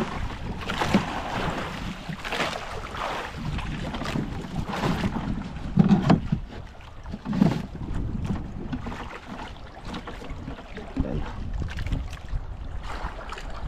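Wind gusts buffet a boat on open water, a loud, continuous rumbling roar with surging gusts and hissy microphone buffeting.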